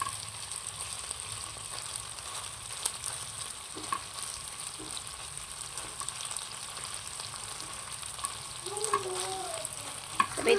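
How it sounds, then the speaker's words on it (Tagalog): Ground beef and Baguio beans sizzling faintly in a pan while being stirred, with light scraping clicks over a steady fry, close and without talk. "pagkatapos haluin naman natin"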